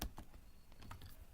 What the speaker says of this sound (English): then click on Control and left arrow on the keyboard